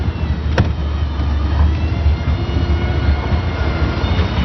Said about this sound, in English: Get in, drive. We're going to take it out for a little bit of a run.